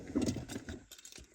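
Car keys jangling briefly and close by, a few light metallic shakes that fade within a second and a half, with no speech over them.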